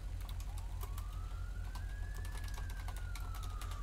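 Faint siren in a GTA 5 roleplay game, one long wail that slowly rises and then falls in pitch over a steady low engine hum, with no talk.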